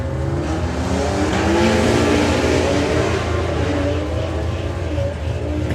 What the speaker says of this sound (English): you can hear the tyres just chirping all the way up the track